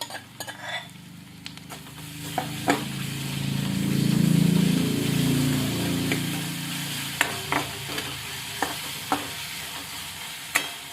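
Tomatoes fried in a pan for a potato palya, sizzling steadily while a spoon stirs and scrapes, with sharp metal clicks and taps against the pan.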